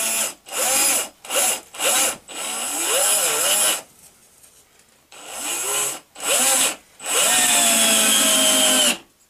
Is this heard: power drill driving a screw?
yes